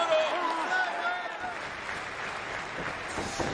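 A raucous crowd at a New Japan Pro-Wrestling show applauds and roars steadily in the background, with a commentator talking over the noise.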